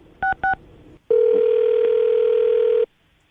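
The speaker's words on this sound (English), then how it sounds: "I'll dial her phone number right now" Two short dialing beeps sound on a telephone call, then a pause and a loud, steady ringback tone that holds for nearly two seconds before cutting off.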